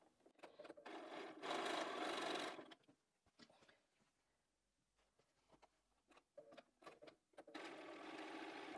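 A sewing machine stitching quilt block seams for a Sawtooth Star block runs in two fast, steady bursts of needle clatter. Between them comes a quiet stretch of light fabric handling and clicks, all close up with no voices.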